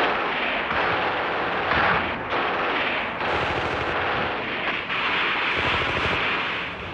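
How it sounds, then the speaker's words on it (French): Enemy machine gun fire from 1939–1945 wartime combat footage: dense, continuous rattling bursts of automatic gunfire with booming reports, loud and sustained throughout with no talking. "une mitrailleuse ennemie vient interrompre la progression"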